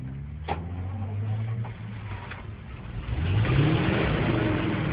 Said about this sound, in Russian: Заводи машину.